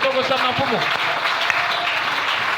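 A church congregation applauding a Bible verse, steady clapping from a crowd filling the whole moment, with a voice briefly audible over it.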